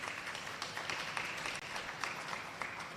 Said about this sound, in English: I think that slideshow deserves a round of applause as well